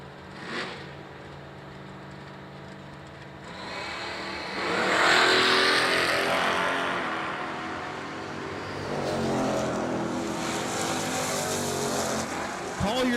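Drag racing cars, a Ford Fairmont and a 1969 Camaro, roar at an IHRA World Finals event, engines swelling loudly mid-run and then sustaining, with an announcer talking over the noise.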